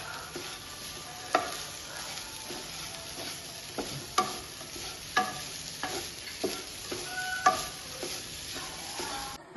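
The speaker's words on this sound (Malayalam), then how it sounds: "തേങ്ങ ഒന്ന് വറുത്തെടുക്കാം" Grated coconut roasts in a pan with a faint sizzle while a spoon scrapes and stirs it, giving repeated sharp clinks and scrapes at irregular intervals, with no voices.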